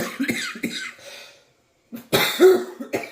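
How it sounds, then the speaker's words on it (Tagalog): Several harsh, close coughs in quick bursts, a brief silence, then another fit of raspy coughing. "Excuse my coughing."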